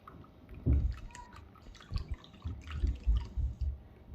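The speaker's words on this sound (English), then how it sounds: "So now what we are going to do is just mix our wet ingredients together." Wet ingredients for gluten-, dairy-, egg- and sugar-free pancakes being mixed by hand, soft irregular sloshing, drips and dull knocks against a bowl, close and fairly quiet.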